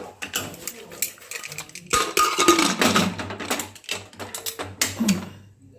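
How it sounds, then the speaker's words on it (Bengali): Metal clanks and scrapes as the lid of a pressure cooker is set in place and locked in a kitchen, a series of short knocks and a grinding twist, with someone speaking between them. "এবার আমি প্রেশারটাকে আটকে দিচ্ছি।"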